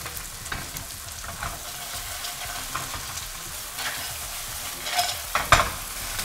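Clams (vongole) cooking in a pan, a steady fry and sizzle broken by stirring scrapes and a few sharp clinks near the end.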